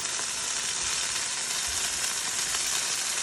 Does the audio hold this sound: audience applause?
no